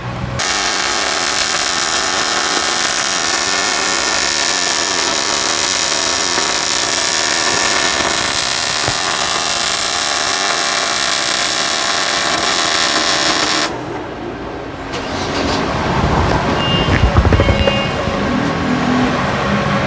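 MIG wire welding of a weld bead with an Elite MP180 inverter, a loud steady crackling hiss that runs unbroken for about fourteen seconds, then stops, leaving scattered clatter and handling noise.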